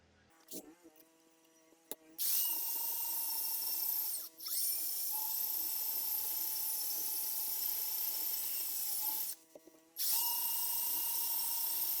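An electric drill bores through metal while a heater core bracket is made for a 1967–72 Chevy/GMC pickup. Its high, thin whine sounds in two long bursts of several seconds each, with a short gap between them, followed by a third burst starting.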